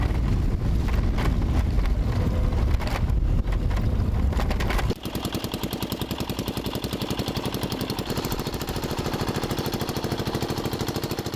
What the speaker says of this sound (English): the best way to reach the final destination is on these rickety scooters